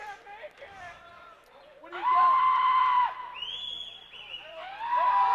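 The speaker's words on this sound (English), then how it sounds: "And the crowd erupts." A high school boys basketball crowd at West Milford during free throws, loud whooping and whistling yells rising in sustained bursts with sharp pitched cries, swelling twice to full volume between quieter moments.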